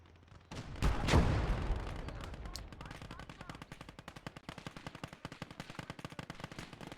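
Gunfire aimed at a Panzer IV tank in the Gates of Hell war game: an opening boom, then a long rapid rattle of machine-gun fire that continues steadily to the end, with no voices.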